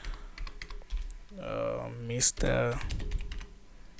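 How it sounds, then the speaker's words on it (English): Keys clatter on a computer keyboard as a name is typed into an HTML exercise, quick irregular taps heard near and clear, overlapped by someone speaking briefly in the middle. "in this case I'll just type in my name"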